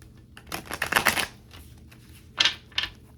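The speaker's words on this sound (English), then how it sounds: "let me shuffle for you real quick" A deck of oracle cards is shuffled by hand up close, a crisp riffling burst followed by two short flicks, with no talking.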